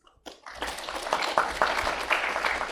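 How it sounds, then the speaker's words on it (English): Audience applause for six panelists at an agrifood systems conference parallel session, starting after a brief silence and building into steady, fairly close clapping that holds to the end with no talk. "Let's give the applause to all our 6 panelists."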